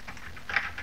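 Quick, light keystrokes on a computer keyboard during a Roblox game, a short close burst of several taps with no talk.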